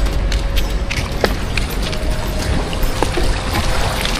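Clear spring water flowing at the Fountain of Youth in Batanes, a steady broadband rush with a few sharper splashes and drips over the constant flow.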